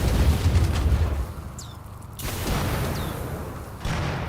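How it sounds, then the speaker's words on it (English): An assault cannon fires in the video game RimWorld: deep rumbling booms open the clip, drop away, then return as heavier blasts with lingering low roar. "Assault cannon, fire."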